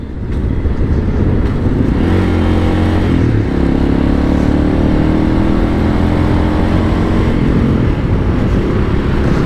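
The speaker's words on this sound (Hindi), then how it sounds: "रुक एक मिनट, मेरे गाड़ी को कुछ हो रहा है, रेस ही नहीं ले रहा।" A motorcycle engine losing power and refusing to rev in third gear, running as a loud, steady, low drone for the whole stretch with no climbing revs.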